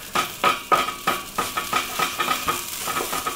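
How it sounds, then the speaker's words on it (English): A utensil scrapes and stirs potato rosti in a hot pan, about a dozen rhythmic scraping strokes over a low sizzle of frying. "Let's give that a stir and a check."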